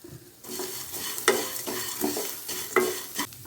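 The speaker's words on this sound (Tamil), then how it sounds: "எல்லாத்தையும் நல்லா வதக்கிக்கலாங்க" Onion and garlic sautéing in a pan, with a spatula scraping and stirring over a soft, continuous sizzle, while making a Maggi noodles cutlet.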